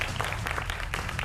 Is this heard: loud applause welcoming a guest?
yes